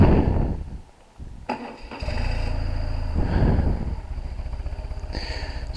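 A BMW R1200C motorcycle engine runs nearby with a steady, throaty idle after a brief dip and a clunk, rising slightly in revs before settling.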